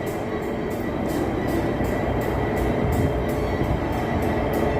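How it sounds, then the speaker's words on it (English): A Freightliner Class 59 freight train passes through Clapham station, a loud, steady rumble of wagons with a regular rhythmic clatter of wheels over rail joints, close by and without voices. "a Freightliner Class 59, and look at that, dear old Genesee in Wyoming have taken this one on."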